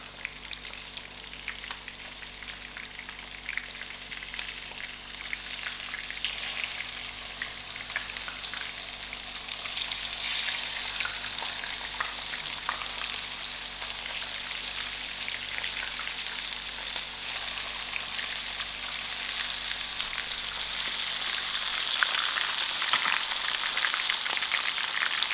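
Masala-coated fish fries in a pan with a steady, dense sizzle that holds close and loud for the whole stretch, swelling slightly toward the end, with no voices.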